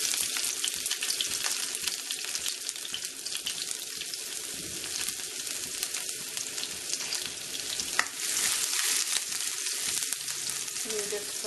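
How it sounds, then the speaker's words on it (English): Finely sliced garlic frying in about two tablespoons of oil in a pan, a steady close hiss and crackle that runs throughout with a brief clatter partway, no talking. "I'm just going to add the finely sliced garlic"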